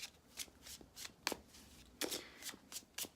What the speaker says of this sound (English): I'm shuffling the Gilded Tarot deck for you guys